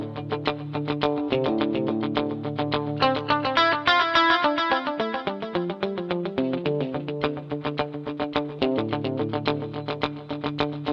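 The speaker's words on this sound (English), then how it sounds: "It's got a delay time, stereo delay of about 420 milliseconds, along with some reverb and a tiny bit of stereo chorus." Electric guitar played through a stereo delay of about 420 milliseconds with reverb and a touch of stereo chorus, steady picked notes and chords trailing into repeating echoes, clear and sustained with no talking.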